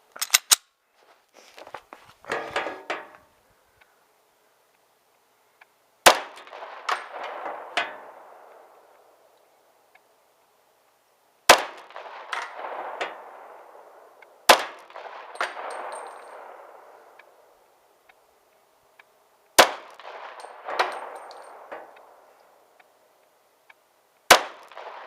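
A Sig P226 pistol in .357 SIG fires at a target about 15 yards away. Sharp single shots come every few seconds, each followed by a ringing metallic clang that fades out.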